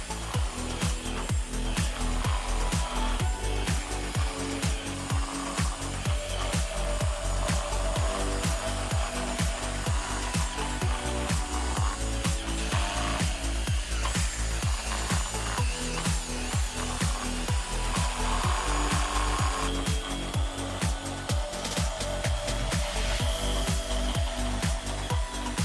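An electric car polishing machine buffs the faded paint of an Opel Kadett GSI, a loud, continuous motor whine and rough friction hum that runs unbroken throughout, with a steady pulsing low throb underneath.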